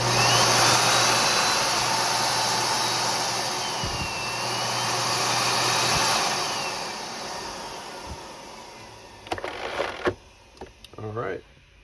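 A Miele C3 canister vacuum cleaner runs with a steady, loud motor roar for most of the clip, then shuts off and leaves scattered handling clicks and knocks near the end.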